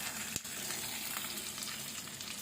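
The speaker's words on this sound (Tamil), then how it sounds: "சின்ன வெங்காயம் எல்லாத்தையும் போட்டு நல்லா வதக்க விடணும்." Curry leaves, garlic, ginger, coconut and shallots fry together in a pan, giving a steady, fairly quiet sizzle with a single sharp knock near the start.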